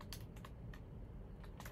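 Quiet clicks from a computer keyboard come in short irregular bursts as someone types, with no talking.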